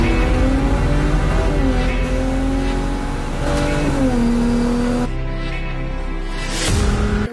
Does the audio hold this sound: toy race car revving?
yes